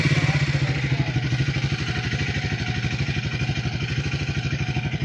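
A Triumph Speed 400 motorcycle engine runs close by with a steady, rapid thumping idle that is loud and continuous, with no voices over it.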